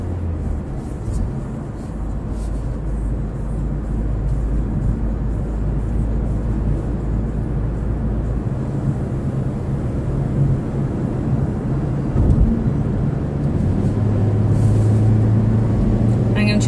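A 2016 Mazda CX-3 cruising on the highway, heard from inside the cabin as a steady, loud low rumble of engine and road noise that holds for the whole stretch, with someone talking over it.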